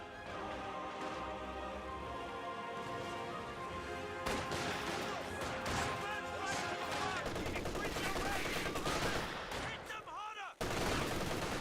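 Dense gunfire and machine-gun bursts crackle continuously in a Company of Heroes 2 battle as a conscript squad pushes forward under fire, loud and busy with a game commentator speaking over it.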